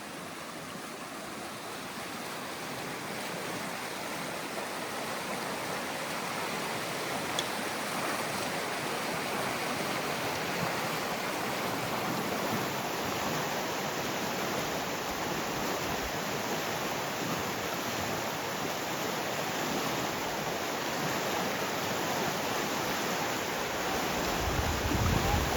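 A river flows beside the Dempster Highway in Alaska, a broad, steady rush of water that is loud and close, running continuously and building slightly toward the end, with no voices over it.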